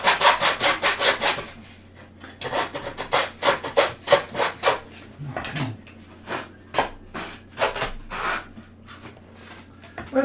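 A hand saw cuts through material while making a Philosopher's stone mould, with rapid, rhythmic back-and-forth rasping strokes in bursts separated by short pauses, close and fairly loud.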